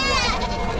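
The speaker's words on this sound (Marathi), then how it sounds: "इकडं तुम्ही पाहू शकाल शेळ्या आलेल्या आहेत." A goat at a large goat and sheep market in Chakan, Maharashtra, lets out one short, close bleat.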